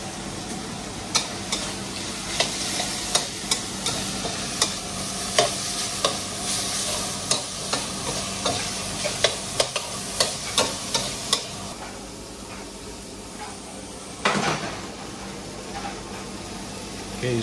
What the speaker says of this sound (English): now he's adding the onion, the cut up string beans,